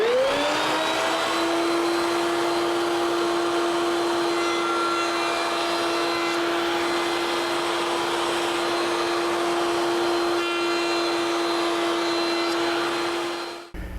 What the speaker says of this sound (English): I can do this at the router table using an 1/8 inch radius roundover bit